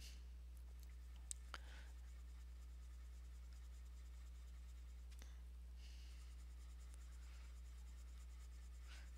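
A soft pencil draws a line across paper, making faint, quiet scratching strokes in a few short passes over a low steady background hum, with no talking.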